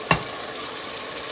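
Tomatoes drop into a pan of softened onions with a short clatter, followed by a steady, close sizzle of frying that continues without pause.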